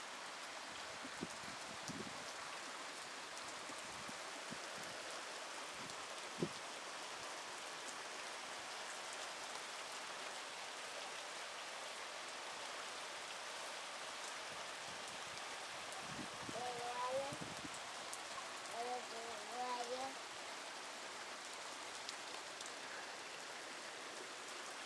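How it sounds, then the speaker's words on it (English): Steady rain falls outdoors as a dense, even hiss throughout, with a few brief louder patters and a voice faintly calling near the end. "Lots of raining."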